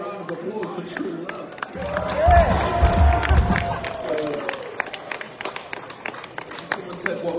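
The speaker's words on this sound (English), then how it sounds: "Can we get a round of applause for true love?" A concert crowd at a Boston rock show breaks into applause and cheering that swells and then fades. Scattered claps and voices continue underneath.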